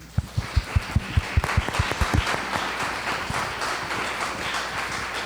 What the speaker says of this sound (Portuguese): Uma salva de palmas para a Fê